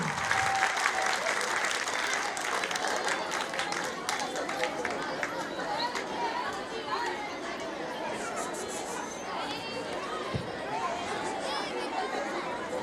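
Sustained applause from a school audience after a children's annual day performance, steady and dense across the whole stretch, with crowd chatter mixed underneath.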